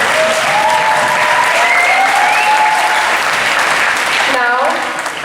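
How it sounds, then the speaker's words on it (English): A school audience at a senior night for volleyball and tennis teams breaks into sustained applause, a dense steady wash of clapping with some voices and whistles mixed in, fading slightly at the end. "Let's give them a round of applause."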